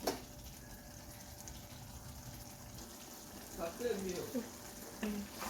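Garden egg stew with locust beans and tomato cooking over a fire, giving off a soft, steady sizzle and bubbling at low volume, with a brief faint voice near the end.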